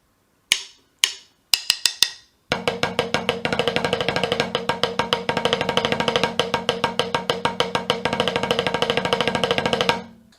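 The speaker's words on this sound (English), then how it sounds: "2 beats of normal triplets followed by 2 beats of triplets with diddles in them" Drum exercise played close on a sharp, bright surface: a few sparse strokes, then a steady run of fast triplets alternating with bounced double strokes, crisp repeated hits at an even rhythm until an abrupt stop.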